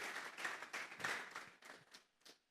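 Congregation in a church clapping together in an offering of applause, a dense wash of hand claps in several bursts that thin out and fade toward the end.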